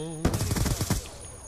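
In the video game Black Ops 2, a burst of automatic gunfire rattles off as a quick run of loud, rapid shots lasting under a second, then cuts to quiet.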